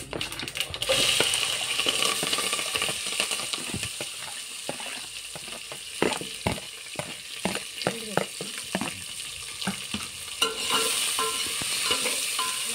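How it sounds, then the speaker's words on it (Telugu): Sliced onions and thin green chillies fry in a pan while being stirred, a loud steady sizzle broken by frequent scraping and tapping strokes of the spoon, close up and without speech. "ఆనియన్ పచ్చిమిర్చి వేసుకోవాలండి. వేసుకొని అంతా ఫ్రై అయ్యే వరకు కలుపుకోవాలి."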